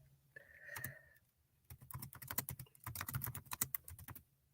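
Rapid clicking of keys on a computer keyboard, typed in quick irregular bursts close by, with a brief hum near the start.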